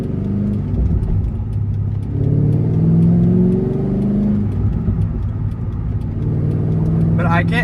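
Chevrolet Corvette C5 with a cammed engine and a Halltech Venom cold air intake cruises with a steady low engine drone and a mild rise in revs, heard from inside the car.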